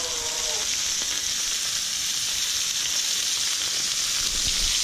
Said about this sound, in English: To the point where it's frying.